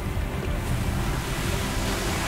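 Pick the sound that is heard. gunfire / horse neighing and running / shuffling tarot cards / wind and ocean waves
wind and ocean waves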